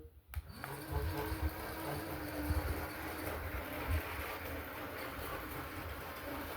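A small, cheap toy train rattles steadily along its track with a continuous low rumble and faint clicking, close by and without pause.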